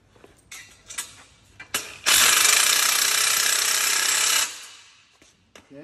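A ratchet tightening bolts on a KSB Astra greenhouse frame: scattered clicks, then one loud, continuous rapid ratcheting run of about two seconds close by, followed by a few more isolated clicks.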